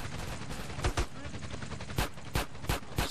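Video game gunfire in GTA San Andreas, a steady crackle of shots aimed at CJ with several louder sharp reports standing out, fairly quiet overall, with a voice talking faintly underneath.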